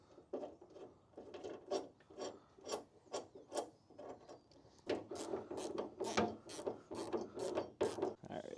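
A hand ratchet tightens a bolt on a light mount of a 2014 Ford F350, giving quick, rhythmic clicking bursts in repeated strokes at close range with no talk.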